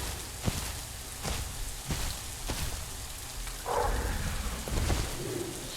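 Rain falling in the video game The Isle, a steady hiss with a few sharper drop-like taps scattered through it, and a slightly louder wash partway in.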